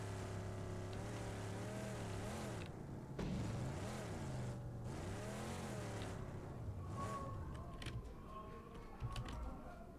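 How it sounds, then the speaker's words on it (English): A video game vehicle drives over rough terrain, its engine droning with wavering, rising and falling revs. Creaks and knocks from the bumpy ground come through, all fairly faint and continuous. "I'm driving some rough terrain here."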